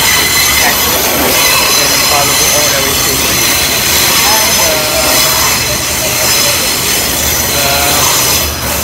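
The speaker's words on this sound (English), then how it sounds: "This is a train again" A loud train rolls along the rails in Malaysia with a steady roar and high metallic wheel squeal throughout, while a voice speaks faintly underneath.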